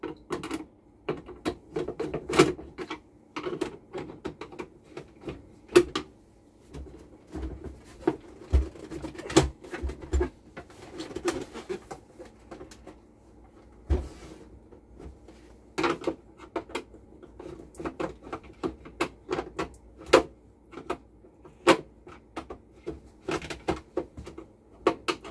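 An old screwdriver works the screws on an old mono TV set, giving sparse, irregular small clicks, scrapes and taps close by in a quiet room.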